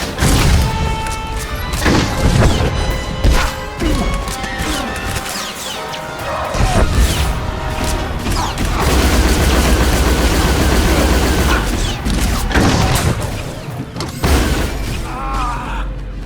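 A Star Wars video game battle on Coruscant: dense, continuous gunfire and crashing explosions, loud and close, with sharp repeated blaster shots and heavy booms layered throughout and no clear talk.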